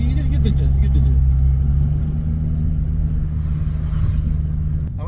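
A Honda Civic FK7 fitted with a Mishimoto cold air intake rumbles with a low, steady engine drone that slowly eases off, loud and close from inside the car, with a voice heard over it.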